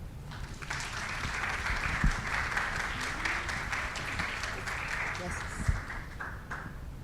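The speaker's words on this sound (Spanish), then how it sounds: "Recibámosla con un fuerte aplauso" A crowd at a medical talk claps steadily for several seconds to welcome a presenter, moderately loud and continuous, with some background voices mixed in.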